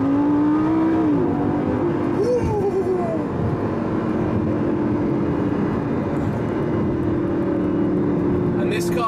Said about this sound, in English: This car shifts when it wants to shift, and it screams at you whilst doing so.